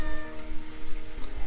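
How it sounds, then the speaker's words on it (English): A cat meows outdoors in a spring garden, wanting to be let into the house; the call is soft and brief, sitting under steady garden background noise. "The cat would like to go in the house."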